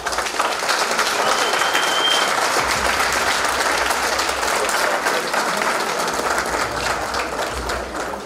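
A large audience applauds at an Armenian gathering honouring the army and its soldiers: dense, sustained clapping at a steady, loud level for about eight seconds, with no pauses.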